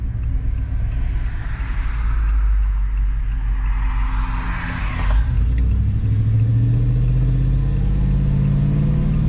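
A pickup truck engine droning as it drives along a road, a steady low rumble with rising pitch as it accelerates, loud and close from inside the cab, with no voices.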